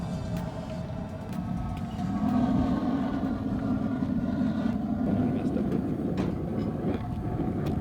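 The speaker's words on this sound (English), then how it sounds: "Those torches are working." Propane torches roar inside a homemade foundry built from a BBQ, a steady loud broadband rumble that swells slightly partway through and stays continuous.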